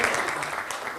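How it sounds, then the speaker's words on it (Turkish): A live audience at a stage show applauds for Uğur Albayrak with steady, dense clapping, and a presenter's voice speaks over it. "Uğur Albayrak bir alkış alalım Uğur'a."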